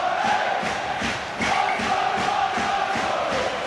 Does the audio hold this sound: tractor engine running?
no